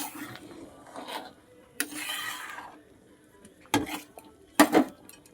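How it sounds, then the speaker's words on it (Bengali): Bhetki fish head muri ghonto being stirred in a pot: a few soft scraping and rubbing strokes, then two sharper clinks of a spoon against the pot, fairly faint and close. "একটু নেড়ে দিতে হবে, না হলে নিচে বসে যাবে।"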